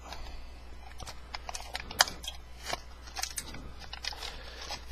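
Repeated crisp snips and crunching clicks of scissors cutting the bottom off a thin metal can, irregular and close, with a sharper crack partway through.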